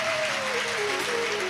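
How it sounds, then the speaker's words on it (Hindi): A crowd applauds steadily at a live religious story recitation in India, dense clapping filling the space, with a faint sustained tone running underneath. "एक बार जोरदार ताली बजाकर उनका उत्साह बढ़ाएं।"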